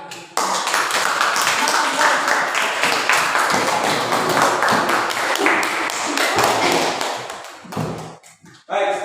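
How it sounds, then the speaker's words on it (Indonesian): Classroom audience applauding a student group during a school teaching session, loud sustained clapping from many hands that fades near the end, with a voice briefly audible. "kita aplaus untuk kelompok 3"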